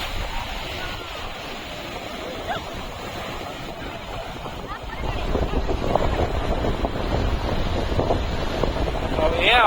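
Strong wind buffets the microphone at Puri beach, a broad continuous roar mixed with surf that swells louder in the second half, with faint background voices.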